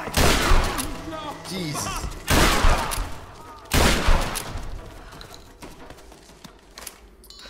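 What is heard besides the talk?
shotgun firing in Tomb Raider video game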